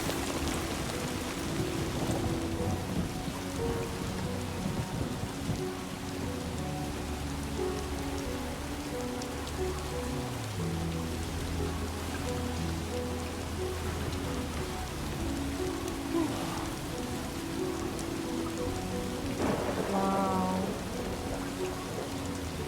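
Steady rain and thunder in the video game Death Stranding 2: a continuous hiss of rainfall with low rumbling thunder, layered over a tonal musical score, with no one talking.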